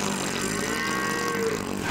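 Cattle on an Irish farm mooing, a drawn-out bovine call that rises and holds steady throughout, fairly loud and close, with no talking.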